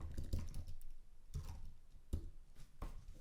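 Quiet close-up typing on a computer keyboard, a few soft clusters of key clicks separated by brief pauses.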